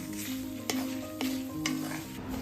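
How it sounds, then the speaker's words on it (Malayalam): Thick vada koottu curry mixture stirred in a hot iron pan, a continuous sizzle broken by three sharp scraping strokes of the spoon against the metal, close and fairly loud. "അത് കരിഞ്ഞു പോകാതിരിക്കാൻ വേണ്ടി നമ്മളിതുപോലെ ഇളക്കി കൊടുക്കണം"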